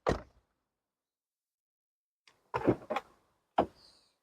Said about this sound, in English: the door opened by the press of a button